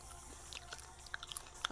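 Crunchy homemade radish chips being bitten and chewed, giving a few sharp close crunches and clicks over a quiet kitchen background with no talking.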